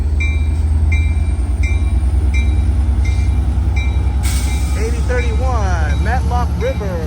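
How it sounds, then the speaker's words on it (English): An Amtrak Capitol Corridor train led by an F59PHI diesel locomotive departs Emeryville station, its engine droning low and steady while wheels click rhythmically over rail joints and brakes squeal toward the end, with someone talking over it. "Now departing in Emeryville Station. That's an F59 PHI 2003 leading off."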